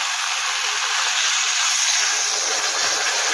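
Water simmering in a pan with spices and potatoes, a steady hissing bubble that holds at an even, fairly loud level throughout with no voices.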